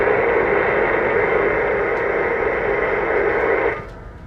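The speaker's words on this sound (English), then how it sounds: "if ever you wonder what a 2-meter signal all the way to Hawaii sounds like" A 2-meter amateur radio signal from Hawaii, received by tropospheric ducting, comes through as steady, loud, hissing static for nearly four seconds before dropping away, with no voice heard.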